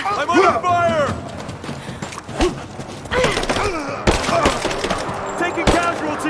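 Gunfire in the video game Rise of the Tomb Raider, with repeated sharp shots and bursts scattered through a busy battle mix, heard alongside in-game voices, shouts and other combat noise.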